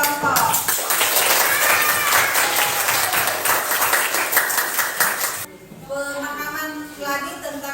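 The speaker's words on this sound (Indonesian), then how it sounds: "Kita berikan tepuk tangan yang meriah dulu untuk semua masing-masing kelompok." A classroom group applauds the discussion groups in a lively, dense burst of clapping that stops abruptly. Afterward, children's voices and chatter continue in the room.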